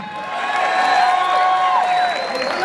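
Audience at a bull competition cheers and claps to vote for Chacorta de la Atalaya, a steady roar of crowd noise with sustained shouts or whistles rising above it throughout.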